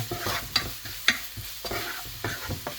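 Sugar being stirred into frying onions in a pan, a few quick spoon scrapes and taps over a soft, steady sizzle, close by with no talking.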